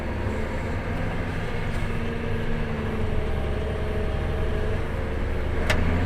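A New Holland 9482 tractor driving across a field during preplant anhydrous work, its engine giving a constant low rumble and drone heard from inside the cab, steady and fairly loud.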